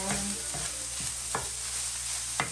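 Samosa filling frying in a pan while being stirred, with a steady sizzle underneath and four distinct scraping strokes of the spoon roughly once a second.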